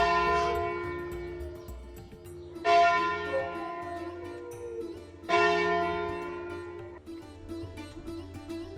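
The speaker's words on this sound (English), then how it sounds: "The church bells and the dogs howling." A church bell rings out three clear strikes in a small town on the Via Francigena, each ringing tone slowly fading into the next, fairly loud with no talking.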